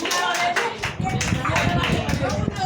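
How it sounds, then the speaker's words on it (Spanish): A church congregation claps for a young girl who answered well in a children's session at a Pentecostal church, with brief uneven applause mixed with talking voices. "Aplausos"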